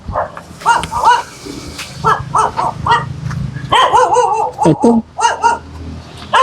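A dog barks repeatedly up close in short, sharp bursts, some yelping and whining, with a low hum in the background.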